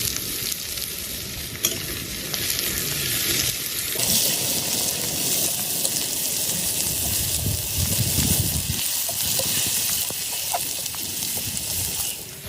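Onions frying in mustard oil with whole garam masala and bay leaves, a steady loud sizzle with stirring scrapes running throughout, no voices.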